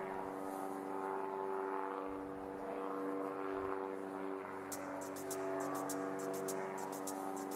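A light propeller airplane drones steadily inside a lively cumbia parrandera, its engine hum blending with the music's sustained tones while sharp rhythmic percussion hits come in over the second half.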